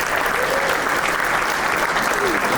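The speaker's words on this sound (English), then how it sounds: "Let's give him a round of applause." A charity-event audience gives a round of applause for a sponsor, a loud, steady wash of clapping at constant strength. A few faint voices mix into the crowd noise.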